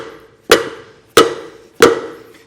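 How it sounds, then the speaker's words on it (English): Three sharp metallic strikes on the end of a screwdriver, spaced about two-thirds of a second apart, driving out a wheel hub grease seal during a trailer wheel bearing job; each hit rings briefly and stands alone without talk. "I'm going to hit the end of my screwdriver to help pop it out."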